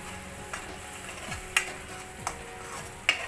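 Dry spices (coriander powder, turmeric, chilli and garam masala) roast in oil in a pan with a quiet steady sizzle, punctuated by a few crisp taps of a spoon against the pan.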